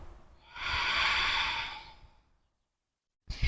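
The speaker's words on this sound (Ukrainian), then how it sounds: "Вдих ми будемо робити через стиснуті зуби, але губи при цьому ми будемо відкривати." A slow breath is drawn in through clenched teeth as a long hissing rush, then eases off and falls silent, close and alone, part of a calming breathing exercise.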